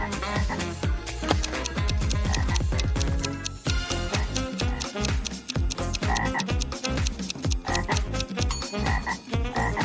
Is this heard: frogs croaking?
yes